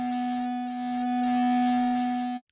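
An aggressive FM synth patch from Meld in Ableton Live 12 sustains a steady, buzzy low drone, its bright upper overtones sweeping up and down in slow waves for about two and a half seconds before it cuts off abruptly.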